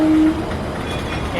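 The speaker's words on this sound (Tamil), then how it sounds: "கரெக்டாக ரயில்வே ஸ்டேஷனில் இருக்கேன்" A loud, close train rumbles steadily past at a railway station in Coimbatore. A brief horn-like tone sounds at the very start.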